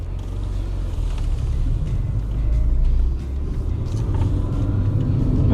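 A non-turbo Fiat Uno engine drones steadily while driving, a loud low rumble with road noise and slight swells in revs, heard close from inside the car without talk.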